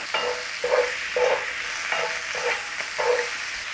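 Steak pieces laid in a single layer sear in a hot pan with Cajun seasoning, a steady close sizzle with short bursts of louder crackle and stirring recurring about every half second, no voices.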